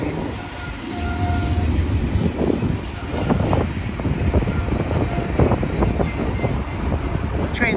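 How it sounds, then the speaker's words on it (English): A heavy BNSF freight train with lots of locomotive power rolls out of Sullivan's Curve at the old Cajon Depot site in Cajon Pass, a loud, sustained engine rumble layered with rhythmic wheel clatter that builds and holds. "Train's coming out of Sullivan's curve right there."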